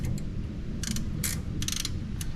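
A ratchet tightening a bolt during an alternator swap on a Ford Courier, several short bursts of quick clicking separated by pauses, fairly close over a steady low background rumble.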